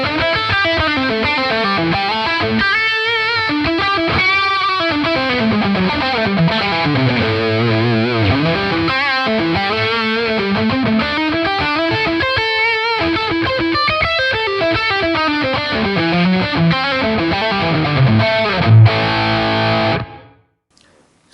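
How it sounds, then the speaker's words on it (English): Electric guitar played through a NUX amp modeler with reverb added, a steady, distorted run of chords and single notes lasting about twenty seconds, loud and alone, with the reverb tail ringing out after a final accented hit. "Okay, now a bit of reverb."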